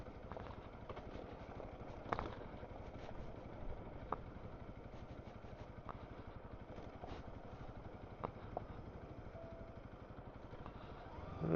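A Honda CRF300L dual sport motorcycle riding on dirt trails in the Arizona mountains, its engine chugging steadily with wind rush and occasional knocks and clatters from the rough ground.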